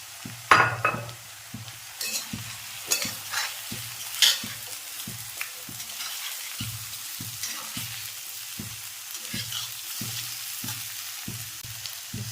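Mackerel masala frying in a pan and being stirred: a steady close sizzle with rhythmic scraping strokes of a spoon against the pan, repeated through the whole stretch, with occasional louder clinks.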